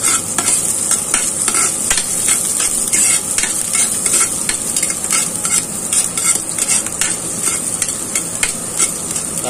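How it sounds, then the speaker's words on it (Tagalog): Garlic and onion sautéing in a pan for goat dinakdakan give a loud, continuous sizzle, with steady stirring strokes scraping through the frying oil and no talk. "Pagsabay na natin yung bawang sa sibuyas."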